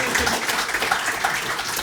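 A short burst of audience applause at a rugby discussion event, a dense wash of claps that fills the whole moment and stays fairly steady throughout, with some voices mixed in.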